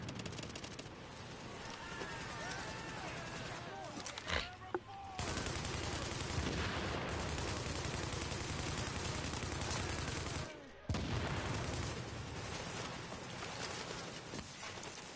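Dense, sustained gunfire from a multiplayer shooter video game, rapid automatic bursts pouring almost continuously with two brief gaps, loud and close, with players talking over it.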